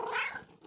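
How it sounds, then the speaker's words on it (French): A cartoon cat gives one soft, short, high meow that fades quickly, quiet and alone. "Maman et Caillou entendirent un miaulement discret."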